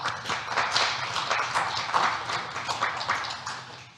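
A modest audience at a Portuguese celebration event gives a round of applause, a dense and steady patter of many hands heard from a moderate distance, with no speech over it.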